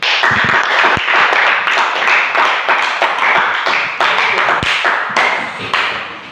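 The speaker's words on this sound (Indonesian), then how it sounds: "terima kasih tepuk tangan" Audience clapping at an Indonesian talk, loud and close, with uneven overlapping claps and sharper single taps and thuds scattered through it, the rhythm loose rather than steady.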